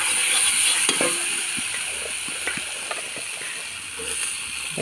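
Potato pieces sizzle in a pan of hot oil with cumin, red chilli paste and ginger. A steady fry hiss runs throughout, broken by repeated clicking and scraping strokes from stirring.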